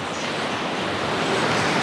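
Strong storm wind roaring steadily on a beach in Anapa, a dense broad rush with surf noise that swells slightly toward the end, no voices.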